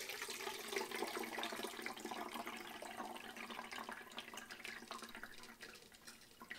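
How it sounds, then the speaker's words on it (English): Rice water pours through a strainer into a container, a faint continuous trickle and splash with small dripping bursts that tapers off near the end. "So now I'm gonna use my strainer and I'm going to pour all this in here."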